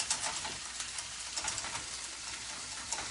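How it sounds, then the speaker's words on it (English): Canadian bacon sizzles in a pan for eggs Benedict, making a constant bright hiss scattered with fine pops and crackles, close up and with no talking. "So we're going to let that sizzle."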